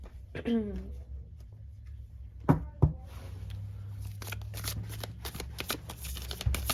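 Oracle cards are shuffled by hand in soft, rapid riffling flurries, close and quiet, with a brief voice early on and a couple of sharper taps as the deck is handled.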